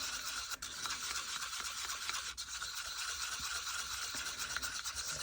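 Stirring a mixture briskly in a small pot, a steady continuous scraping and rubbing that runs unbroken at close range with no voices.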